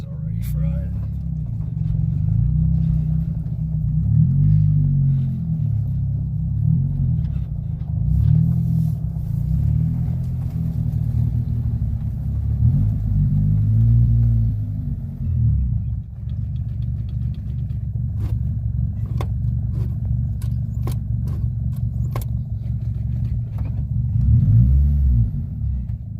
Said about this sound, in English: Burning that clutch.